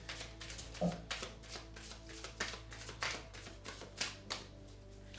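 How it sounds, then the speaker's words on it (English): Tarot cards are shuffled by hand in a quiet room, a close, steady run of soft riffling taps and flicks repeating for several seconds with no talk. "I'm going to shuffle that again."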